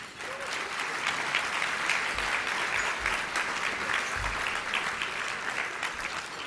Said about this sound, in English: I would just like to ask that you give a short round of applause for Esther Rothstein